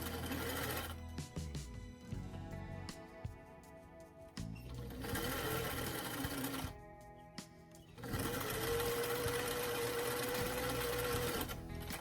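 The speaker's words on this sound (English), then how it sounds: "when I start to sew down that thigh, I want to make sure that I'm not catching the fabric in the feed dogs of the sewing machine" A sewing machine runs in long steady bursts while stitching stretchy thigh-high fabric for doll clothes, its motor loud and close, stopping briefly between runs.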